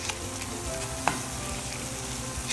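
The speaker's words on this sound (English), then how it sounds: "you just want to cook it through until the tomato skin is nice and soft" Tomatoes and saltfish cook in a pan for a Trini Caribbean dish, a soft steady sizzle with faint stirring and one sharp click near the middle, quiet and close.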